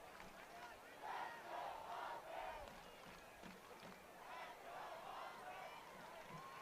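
A crowd in the bleachers at a high school football game night between Conroe and Caney Creek, a broad roar of cheering and shouting swelling and fading, heard from some distance with muffled voices.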